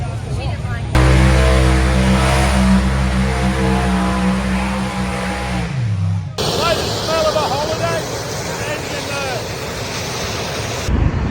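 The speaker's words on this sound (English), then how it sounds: "this is going to be the fastest John Deere you've ever seen" At a tractor pulling event, an orange-cabbed John Deere tractor drones loudly with a steady harmonic engine tone that drops in pitch and fades. Wind buffets the microphone and people talk throughout.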